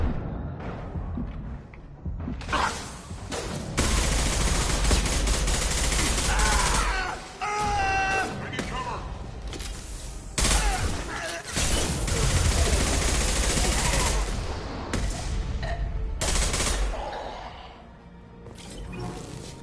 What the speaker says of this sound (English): Taking fire. Heavy fire!